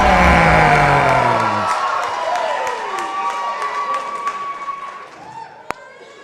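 A crowd at an IHW live wrestling show cheers and whoops for champion Titus from Moncton, New Brunswick. The noise is loud at first, fades into a lingering roar under a ring announcer's echoing voice, and ends with one sharp slam.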